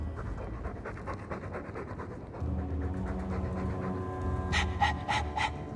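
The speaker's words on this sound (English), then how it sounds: "All that noisy dog breath, day in, day out." A dog pants heavily and rhythmically in the Dragon Age II video game, steady close breaths that grow louder and rougher toward the end.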